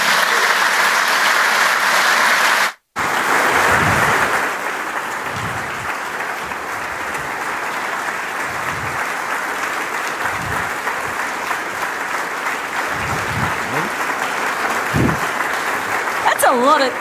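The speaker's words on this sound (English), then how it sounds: "That is a lot of clapping." Sustained, loud applause from a large audience welcoming guests on stage, steady dense clapping for about seventeen seconds with a brief dropout early on.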